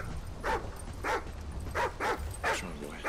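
Riley the dog whimpers and yips in Call of Duty: Ghosts, giving five short, evenly spaced whines about half a second apart, close and clear over a low background hum.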